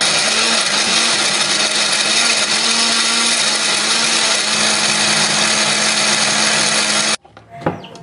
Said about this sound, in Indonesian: Kemudian kita tambahkan air supaya lebih gampang untuk menghaluskannya